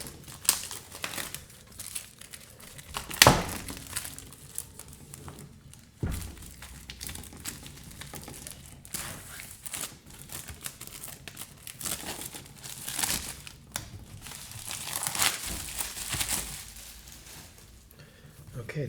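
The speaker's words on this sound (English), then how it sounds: "So let us carefully take off this plastic." Plastic shrink wrap is peeled and torn off a 1611 King James facsimile Bible, with repeated close crinkling and crackling, sharp tearing bursts and occasional handling thumps, and a voice speaking at times.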